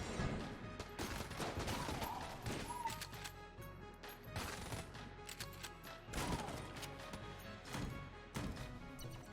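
Icebreaker shots fired from a weapon in a video game, several sharp blasts in quick groups amid game noise, fairly quiet overall.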